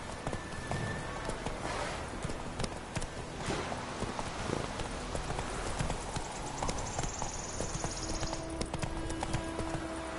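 Horse hooves galloping in the video game The Witcher 3, with a brisk, continuous clip-clop rhythm, close and steady, under faint game ambience and occasional tonal effects.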